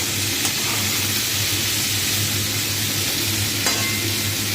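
Broken wheat (dalia) frying in a pan for pulao gives a steady, even sizzle with a faint stirring texture throughout, at a moderate level and with no one talking.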